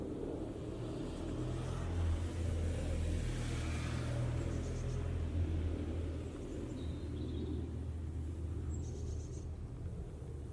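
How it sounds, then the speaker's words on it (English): A Skoda Fabia Monte Carlo small hatchback engine hums and revs steadily in a low, continuous rumble, moderately loud and close, without any voices. "listen to that little engine spool up"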